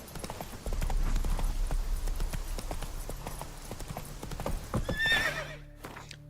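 Roach, the horse in The Witcher 3, gallops with rapid, rhythmic hoofbeats close by, then lets out a loud whinny near the end as the hooves slow.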